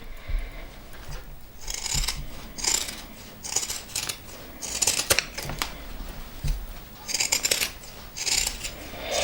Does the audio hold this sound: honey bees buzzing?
no